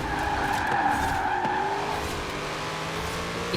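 A Corvette C8 sliding in Forza Horizon 4 during an S1-class rear-wheel-drive road race, its tires squealing in one sustained, loud skid over a steady engine drone.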